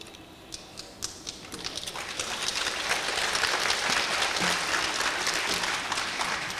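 Applause at a Portsmouth Public Schools Class of 2021 summer high school graduation, starting as scattered claps and swelling into a steady, broad crowd clapping that holds to the end.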